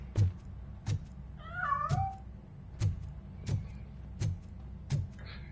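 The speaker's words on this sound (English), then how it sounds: "That cat must be hiding inside." In the video game RoboCop: Rogue City, regular heavy thumps repeat about every second while a cat lets out a couple of wavering meows in between; fairly quiet, no talking.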